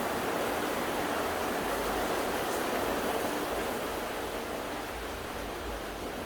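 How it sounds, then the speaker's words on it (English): Steady rain falling as an even, dense hiss that holds constant throughout, with no voices or other distinct sounds. "Do you hear the rain?"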